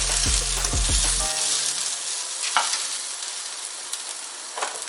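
Asafoetida stirred into a hot tempering in a pan for rasam, a near, bright sizzle with a few low thumps at the start, then steady frying and the occasional scrape of the spoon.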